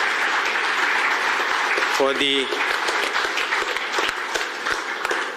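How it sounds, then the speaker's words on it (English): Applause from an audience at a hospital inauguration of cardiac catheterization laboratories, a steady crowd clapping that fills the clip, with a brief spoken phrase and a short tonal sound partway through. "So a big round of applause to the new SOPs"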